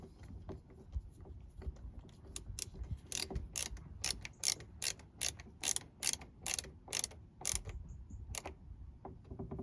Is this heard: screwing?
yes